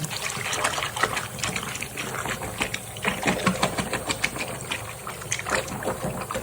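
Warm, soapy water running into a basin for washing motorcycle helmet pads, a continuous close splashing and gushing with a faint rhythmic patter.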